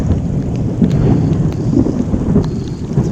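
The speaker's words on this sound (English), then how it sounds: "pretty big thunderstorm" A big thunderstorm pounds around an RV with heavy, steady rain and deep rumbling thunder rolling underneath, a dense, loud wash with no voices.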